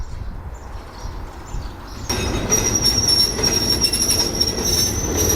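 An oil tanker freight train reversing into an oil depot at Ban Pok Paek station in Thailand, a steady low rumble of rolling wagons joined midway by a loud, sustained high wheel squeal.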